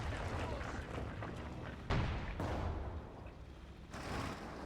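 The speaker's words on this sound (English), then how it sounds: "there's another Werfer barrage, I'm afraid" Werfer rocket artillery barrage in a World War II strategy game, a dense wall of rumbling low booms and crackling blasts with sharp impacts near two and four seconds, under a busy, continuous battle din.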